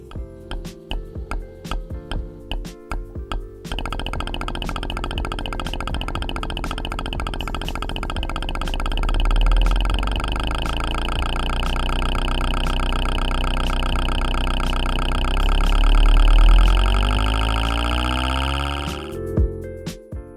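A flat-plane crankshaft engine firing at even 180-degree intervals drones as a loud, steady buzzing tone, rising in pitch as revs climb toward the end, with scattered ticks before it starts.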